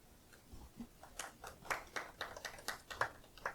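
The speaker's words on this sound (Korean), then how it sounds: "힘차지는 않지만 박수 감사합니다" Sparse, half-hearted applause at a labor union press conference, a handful of individual claps in an uneven rhythm, faint and thin in a quiet room.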